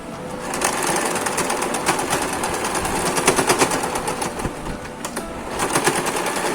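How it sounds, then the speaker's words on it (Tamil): A sewing machine stitches elastic for a headband with rapid, rattling needle strikes in a continuous run that pulses slightly in strength, close to the microphone, with no voices. "மாற்றிட்டு இப்போ ஸ்டிச் பண்ணணும்."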